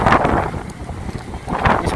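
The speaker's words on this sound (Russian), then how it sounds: "Но ветерок такой конкретный" Strong wind buffets the microphone on a beach walk in Lazarevskoye, Sochi, in loud rumbling gusts that swell at the start and end.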